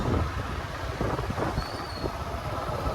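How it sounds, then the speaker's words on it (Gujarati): Wind blowing through an open-air town market in Visavadar as rain-like weather sets in, a steady rough buffeting across the microphone with a faint thin whistle partway through, no voices. "પવન ચાલુ થઈ ગયું છે"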